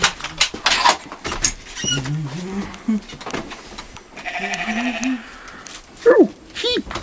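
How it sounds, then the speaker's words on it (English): Sheep bleat repeatedly at a sheep farm, several wavering calls close by, mixed with people talking and brief exclamations between them. "Ah, the sheep. Too many sheep."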